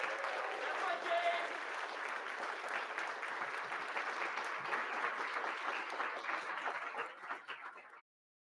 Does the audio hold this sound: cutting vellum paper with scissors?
no